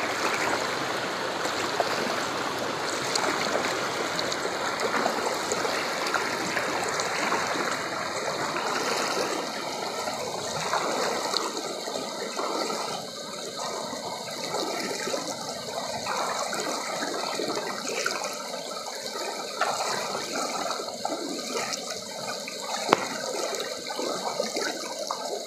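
Water of a stream with large submerged rocks being waded across; continuous rushing and trickling flow, fairly close and steady, with no voices.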